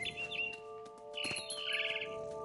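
Small bird chirps and tweets from the video game What Remains of Edith Finch. The faint, high calls are scattered over a steady, quiet ambient background, with no talking.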